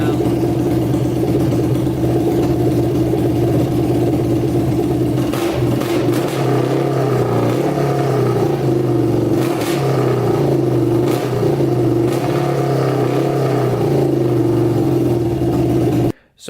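A big-bore Yamaha YFZ450 ATV engine runs with its exhaust pipe off, holding a loud, steady, raspy drone close by with a few sharper throttle blips mid-way, then cuts off abruptly at the end.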